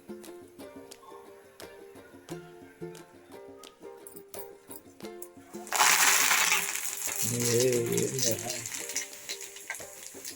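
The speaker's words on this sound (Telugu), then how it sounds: "ఏం చేద్దాం కరివేపాకు వేయించుకుందాం" Curry leaves dropped into hot oil for a crunchy chana dal snack mix, bursting into a loud, bright sizzle that stays strong under light stirring, after a stretch of quieter kitchen clatter.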